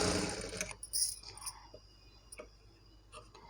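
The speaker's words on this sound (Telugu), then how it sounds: "ఇలా ఒక స్టిచ్ పెట్టేసుకోవాలి." A sewing machine stitches fabric for a baby frock for a newborn, running in a brief close burst and then giving a few scattered mechanical ticks and clicks in a quiet room, with no talking.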